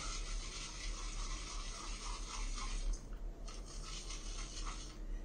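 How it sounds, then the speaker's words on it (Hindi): A 24mm synthetic-knot shaving brush works shaving soap into a lather, a close, steady wet swishing and rubbing that continues in quick strokes throughout, with no talking. "Same brush, याकी 24mm not synthetic, starting to lather up।"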